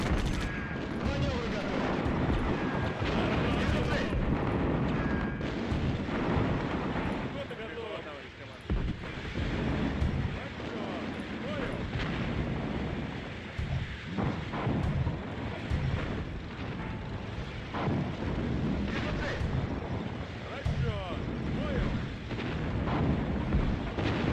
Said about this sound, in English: Now I'm gonna be wasting Katyusha volleys